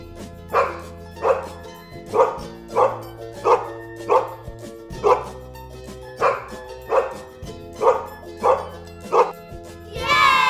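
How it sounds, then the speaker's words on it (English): Repeated dog barks, about a dozen evenly spaced single woofs over a steady musical backing, each bark clear and close, with a brief different animal call starting at the very end. "Dog माने कुत्ता।"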